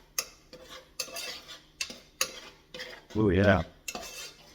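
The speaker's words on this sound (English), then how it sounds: "I'm going to fold in that 1/4 cup of honey, where all that good sweetness is coming in" Spoon stirring quarter cup of honey into a mixture, a series of short clinking scrapes in steady rhythm, close and fairly loud, with a brief voiced exclamation near the end.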